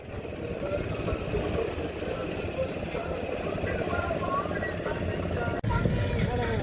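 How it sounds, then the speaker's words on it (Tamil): Boat engines droning continuously in a police-led boat parade at Karaikal, a steady low rumble with faint distant voices and a brief dip and thump near the end. "படகு அணிவகுப்பு நடந்து கொண்டிருக்கிறது."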